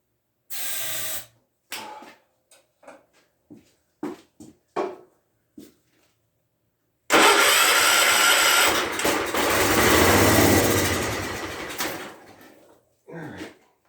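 A John Deere 214 lawn tractor engine cranks in short separate bursts, then churns in one long loud attempt to start that fails to catch, ending in a final brief crank.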